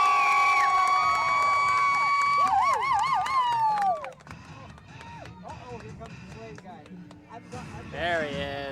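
An arena crowd roars and whoops for the jousting champion Titus at a knights and jousting show, loud and sustained shrieks at first, then a softer rumble of voices before rising again near the end.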